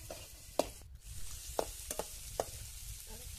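Ingredients for a toor dal amti fry quietly in a pan, a faint soft sizzle broken by a few sharp clinks and scrapes of a utensil stirring, with no talking.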